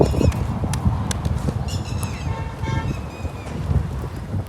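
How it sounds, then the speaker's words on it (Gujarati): Strong wind blows before unseasonal rain, a steady broadband rush that gusts and buffets close to the microphone, with faint whistling tones running through it. "કેટલી બધી હવા પણ લાગે છે આ સાઉન્ડમાં ખબર જ પડતી હશે"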